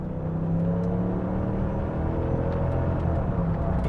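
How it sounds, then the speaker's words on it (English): A Mercedes-Benz E500 wagon's engine hums steadily with a smooth, low rumble and faint whir while driving, continuous and fairly quiet throughout, with no talk. "And the engine sounds good."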